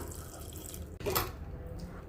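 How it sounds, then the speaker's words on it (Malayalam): A brief splash of about a quarter glass of water pouring into a pressure cooker of dal and spinach, quiet and close, with no talking. "ഏകദേശം 1/4 ഗ്ലാസ് വെള്ളം ഒഴിച്ചു കൊടുക്കാം"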